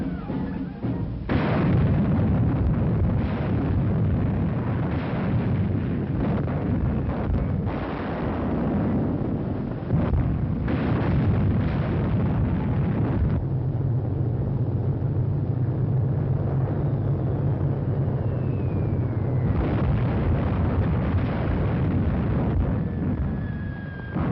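Italian guns and tanks invading Ethiopia in a 1942 wartime propaganda film: dense, continuous battle noise of booming explosions and gunfire, loud and rough throughout with brief shifts between scenes.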